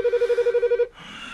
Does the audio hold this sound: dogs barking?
no